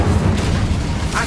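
The Incendio fire spell in Hogwarts Legacy bursts as a loud, low whooshing boom that rumbles through its length, with a brief brighter crackle near the end.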